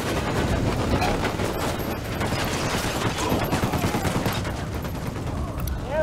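Sustained gunfire from the Ghost Recon Wildlands shooter, a dense rattling fusillade of rapid shots that runs without a break, loud and close, with faint voices mixed in.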